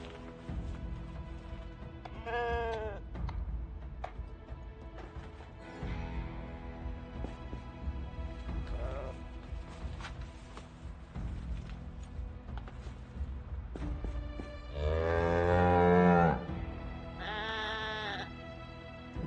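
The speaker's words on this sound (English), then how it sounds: "I can just hear that, like that moo right there" A cow in the game Project Zomboid lets out a few drawn-out, tonal moos, one short call early and a louder, longer one later, over soft ambient clicks and movement sounds.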